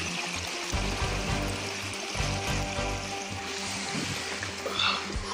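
Creek water flows and trickles steadily along a hiking trail near a crossing, a continuous close wash with some low bubbling and a few faint splashes or footsteps.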